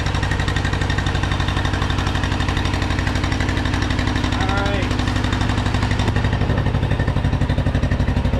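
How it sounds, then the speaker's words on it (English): An old tractor engine runs steadily and loudly close by with a fast, even chugging pulse throughout, a slight rise in pitch partway through, and faint talk beneath it. "Apologize for the noise of the tractor."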